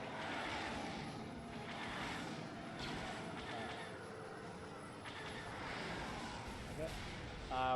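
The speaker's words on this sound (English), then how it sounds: "This is just showing a ton of Sith fighters flying towards the camera" Sith starfighters from the Star Wars KOTOR video game streak toward the camera in a space battle cutscene, a sustained roaring engine rush with swelling passes that stays fairly faint throughout.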